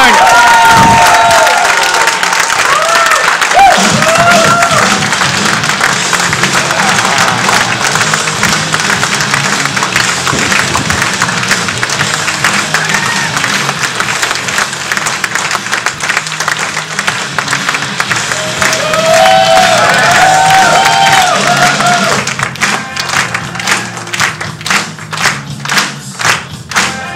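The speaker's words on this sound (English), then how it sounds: "give him a massive, huge, rapturous round of applause" A large audience gives rapturous applause and cheering as a speaker comes up on stage, dense loud clapping and whoops sustained throughout, with thuds and scattered voices, thinning toward the end.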